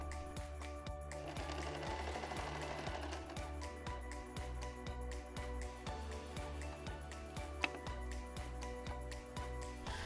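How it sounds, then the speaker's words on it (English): A sewing machine runs a straight stitch across a pillowcase hem, a rapid, even mechanical chatter of needle strokes that continues steadily at close range throughout. "fold in from the top edge and sew using a straight stitch like so"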